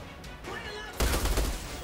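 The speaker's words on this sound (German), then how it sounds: "Ich kann doch bis dahin schießen." Gunfire in the video game Outriders, a burst of rapid shots starting partway through, moderately loud and dense, with a sharper hit at the very end.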